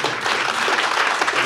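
An audience at a public discussion with Björn Höcke and Paul Brandenburg applauds, a dense, loud wash of many hands clapping for a short stretch.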